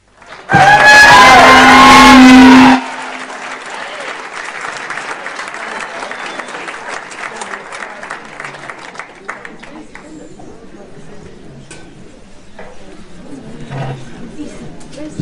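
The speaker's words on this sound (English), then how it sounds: "that was a very poor applause" An audience at a memorial event breaks into applause, a dense wash of clapping after a loud opening burst, continuing steadily and gradually thinning out.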